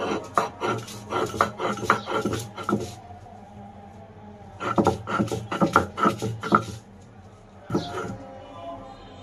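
Green chili and a few other ingredients are ground on a grinding stone, giving rhythmic bursts of rough, rasping strokes that come in two clear runs, with a short pause between them.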